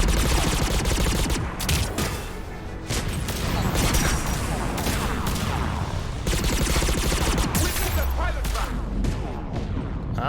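Rocket fire and gunfire during a Mass Effect 3 battle against Reapers with air support, dense rapid bursts of shots and booms running continuously and loudly, with a voice talking briefly among them.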